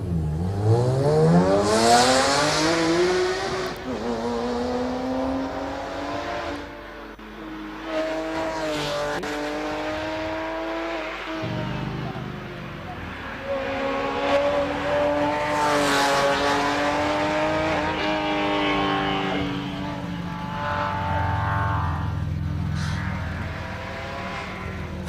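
A Porsche 911 GT2 RS race car of the 991.2 generation at Caramulo Motorfestival, its loud engine sweeping up and down through gear changes as it passes close by, with rising and falling pitch.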